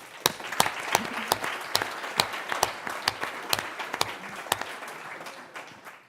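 An audience at a forum on white privilege breaks into steady applause, with scattered sharp individual claps standing out over a dense wash of clapping that carries on for about six seconds without any talk.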